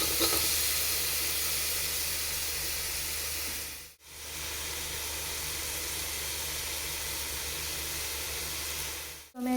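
Tomato cooking with onions sautéing in coconut oil for a prawn roast, a loud, continuous hissing sizzle that cuts out briefly midway and again at the end, with no talking.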